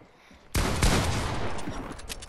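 Gunfire in the video game Fortnite. After a quiet half second, a sudden loud burst of rapid shots breaks out and continues as sustained, echoing fire to the end.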